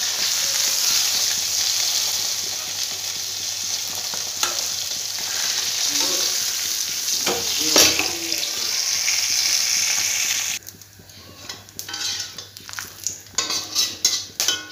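Dried chilies and bay leaves fry in hot oil left over from fried fish, a loud, close hiss that runs steadily, then cuts to quieter stirring and scattered utensil clatter near the end.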